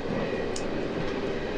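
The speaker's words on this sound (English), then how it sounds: "I'm sure you can kind of hear the train in the background too." A TGV InOui high-speed train rolls along, heard from inside the carriage as a constant low rumble and rushing hum with a faint brief squeak.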